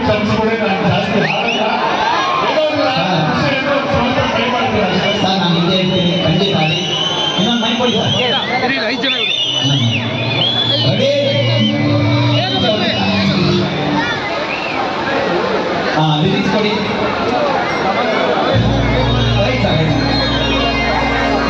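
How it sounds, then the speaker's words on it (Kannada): A large crowd at a Kannada film star event erupts in loud, continuous cheering and applause, a dense roar of voices and clapping that holds steady throughout, with music and shouting mixed into the din. "ಜೋರಾದ ಚಪ್ಪಾಳೆ"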